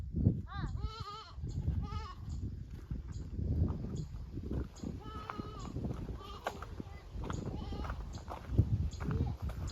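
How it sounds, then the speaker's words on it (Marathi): Goats bleat in a village near Trambakeshwar, a burst of wavering, nasal cries early on, then quieter calls under ongoing conversation and general outdoor bustle. "ए बकरी आली हो, तोडते रोप."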